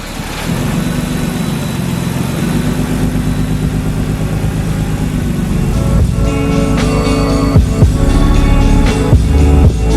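A Nissan Skyline R33 engine cranks and fires up, then settles into a loud, steady idle with a deep rumble, close by and continuous, with rising revs toward the end and no voices.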